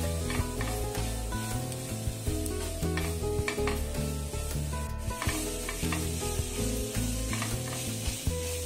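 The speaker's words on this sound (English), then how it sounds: "Now all the masalas are fried very well." Homemade sambar masala powder and salt fry in a pan for a masala dosa filling, sizzling steadily while a spoon stirs and scrapes in an irregular rhythm close by, with no talking.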